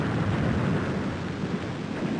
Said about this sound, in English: And there's the first explosion.